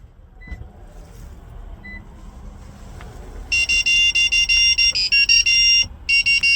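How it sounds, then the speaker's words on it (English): A series of rapid electronic beeps from a Toyota Corolla during key fob programming, harsh and loud, chirping in quick regular bursts after a few seconds of quiet background. "wait for a few seconds until you hear the beeping sound indicating programming is successful"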